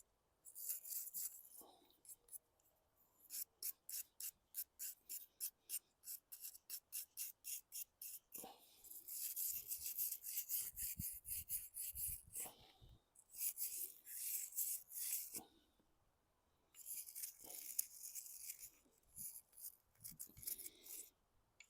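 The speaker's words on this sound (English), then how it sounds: "I'm going to take just a small wire brush" A small wire brush scrubs old varnish off a 2018 Toro Recycler lawn mower with a Kohler 6.75 engine, producing rapid rhythmic rasping strokes in quick bursts, then longer scratchy passes with brief pauses, close and fairly quiet.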